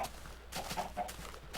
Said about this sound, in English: Many chickens.